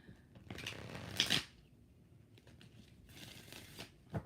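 An Alice in Wonderland tarot deck is shuffled by hand in quick, close, papery riffles, with a sharp burst early on, softer rustles afterward and a final snap of cards.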